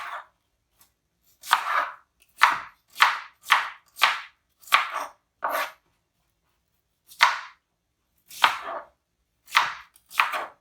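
A knife chops ingredients finely on a cutting board while pork loin and potatoes are being prepared, giving crisp, close thuds that come in quick rhythmic runs separated by pauses.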